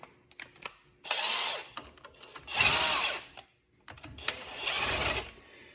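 An impact tool spins shallow lug nuts onto the wheel studs of a Jeep JK Wrangler, dry without thread locker, in three sustained whirring bursts of about a second each, with short clicks and handling noises between them.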